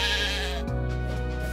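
A single drawn-out sheep bleat with a wavering, nasal tone, heard close over a steady musical background.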